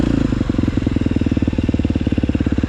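A KTM 250SXF dirt bike with a stock exhaust runs close by, a loud, steady four-stroke thump with a fast, even pulsing rhythm and no talking.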